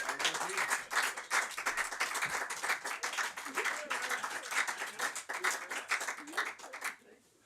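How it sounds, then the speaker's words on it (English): An audience at a poetry reading claps in sustained, dense applause that carries on for several seconds before stopping abruptly, with some voices mixed in. "brazenly applaud as Hugh's foil climbs the stair"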